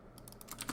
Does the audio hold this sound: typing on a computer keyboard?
yes